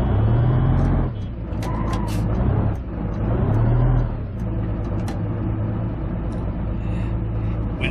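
Heavy truck engine in the BeamNG driving game labouring up a steep city gradient, a steady low drone that swells and dips with throttle changes, with brief hissing bursts like air brakes, loud and close throughout.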